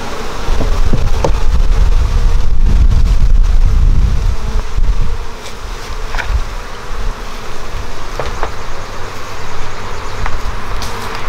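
Honeybees buzz steadily around an open hive during an inspection, a dense close hum with wind rumble and occasional handling knocks, no talking.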